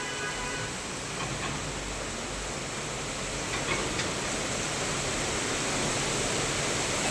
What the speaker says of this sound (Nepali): हेर त बाफ्रे बाफ्रे कस्तो पानी आएको यहाँ है